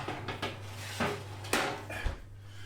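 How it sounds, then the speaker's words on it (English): Kitchen clatter while frozen sausages go into an oven: a few close knocks and clunks of a tray and oven door spaced over a couple of seconds, with a low hum beneath. "I'm going to put them in the oven then."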